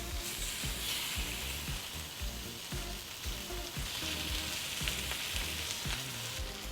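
Beef fries in shimmering hot canola oil in a wok, a steady loud sizzle with rhythmic scraping and stirring pulses throughout.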